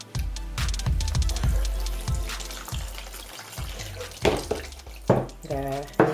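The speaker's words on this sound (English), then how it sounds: "I'm going to use my jug, and I've just got again some nice lukewarm water in there, and I'm just going to rinse it off." Lukewarm water is poured from a jug to rinse a hedgehog being bathed. There are close splashing and trickling sounds, and the pours and drips vary as the jug is tipped, over soft background noise.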